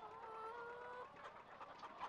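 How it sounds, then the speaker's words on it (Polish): A black fighting hen clucks in the Farming Simulator 17 video game, a close, fairly faint run of throaty calls followed by shorter broken clucks, alone without talk. "O kurczę, czarna bojowa kura"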